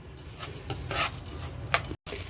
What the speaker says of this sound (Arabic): كده الرز بتاعنا انا اديته تشويحه